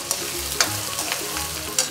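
Onion, garlic and green chili fry in oil for a tadka for Punjabi chana dal, a brisk close sizzle with quick scraping stirs and a couple of sharp clinks over two seconds.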